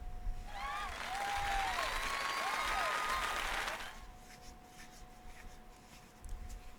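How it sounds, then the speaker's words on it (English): Brief burst of crowd applause in Fire Emblem: Three Houses, light clapping lasting a few seconds before fading into quiet background. "please give a big round of applause for our talented participants"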